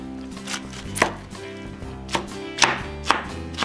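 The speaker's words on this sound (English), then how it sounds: "Slice it down this way. Turn it and give it a slice this way." A knife slices through pineapple on a cutting board, giving several sharp, separate chopping thuds at irregular intervals over low background music, close and moderately loud.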